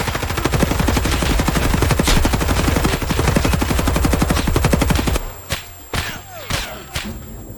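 Sustained automatic gunfire rattles in a video game shootout, a long rapid burst of evenly spaced shots followed by a few separate single shots after it stops.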